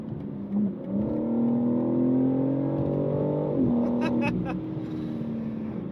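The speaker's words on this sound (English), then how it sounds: "hearing that S58 through the titanium exhaust of the M4 CS is pretty pleasant" A BMW M4 CS with the S58 engine and titanium exhaust, its steady humming drone heard from inside on the highway, shifting pitch midway, with someone talking over it.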